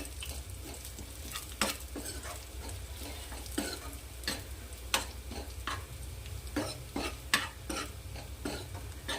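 Red chilli, cumin and coriander seeds sautéing in a pan for dry ambadi bhaji, with a steady low sizzle and irregular sharp scrapes and clinks of a spoon stirring, close and moderately quiet.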